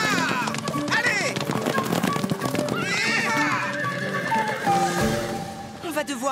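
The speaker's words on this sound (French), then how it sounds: "Viens, les chevaux vont s'emballer." Cartoon horses whinny and neigh amid galloping clip-clop hooves as riders urge them on, all under a busy animated soundtrack with shouting voices close by.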